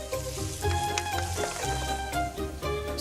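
Sausage sizzles and fries steadily in a pan of Italian soffritto as it is broken up over lowered heat, a dense continuous crackle with faint utensil scrapes, no voices.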